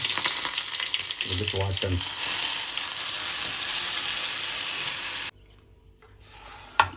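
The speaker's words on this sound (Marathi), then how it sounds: "आता तेल गरम झालं आहे, आपण कढीपत्ता टाकून" Curry leaves and masala crackle and sizzle loudly in hot oil in a home kitchen, a brief voice speaks over it, and the frying noise cuts off abruptly near the end.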